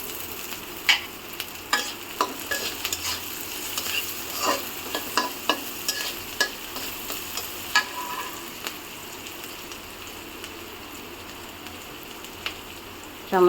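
Bottle gourd with sliced green chillies and salt fries in a pan, a steady sizzle broken by repeated scraping stirs of a spatula, a voice speaking briefly.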